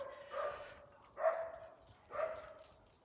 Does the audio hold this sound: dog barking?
yes